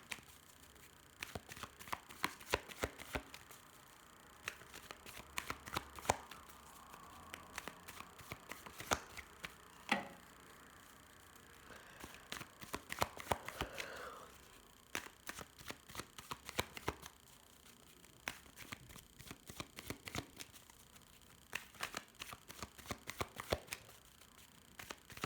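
A deck of tarot cards is shuffled by hand again and again, close and fairly quiet, with crisp riffling flurries and soft slaps separated by short pauses.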